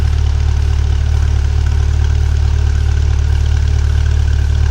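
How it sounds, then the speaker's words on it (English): A 2020 Chevrolet Corvette C8 engine holds a steady low, droning note, loud and continuous for a few seconds with no voices. "the engine sounds awesome. It sounds like a proper, like NASCAR spec note back there."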